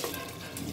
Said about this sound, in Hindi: हमने सब चावल डाल रखा है, अब हम इसे अच्छे से चला देंगे।